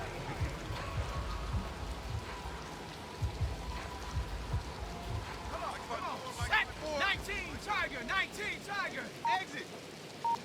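Steady rain pours down during an outdoor football game, a dense hiss that runs throughout beneath crowd noise and play-by-play commentary, with whistles and sharp tones cutting in toward the end.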